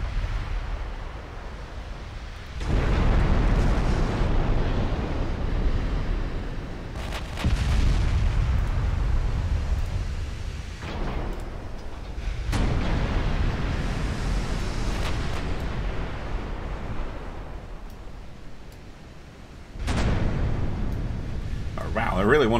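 Naval guns firing in a warship video game, several deep booming salvos spaced a few seconds apart, each followed by a long rumbling wash of sound, with a player talking between shots.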